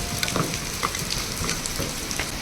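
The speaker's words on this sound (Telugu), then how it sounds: "ఇప్పుడు వీటిని ఇలా వేసేసుకొని ఆయిల్లో వేసేసుకొని ఫ్రై చేసుకోవాలన్నమాట" Dough pieces hiss and crackle as they drop into hot oil, a steady close sizzle with brief pops and bubbling bursts throughout.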